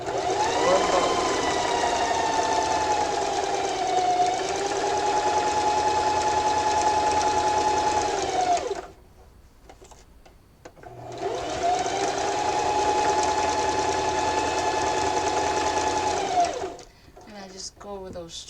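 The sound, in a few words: sewing machine stitching a drawstring backpack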